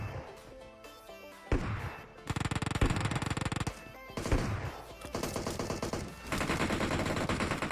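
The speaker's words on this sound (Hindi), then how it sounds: "सामने की तरफ से काफी तकड़ी फायरिंग चल रही थी" Heavy automatic gunfire from an M416 and other weapons in PUBG Mobile rattles in loud rapid bursts, with several long sustained sprays separated by brief pauses and sharp single shots.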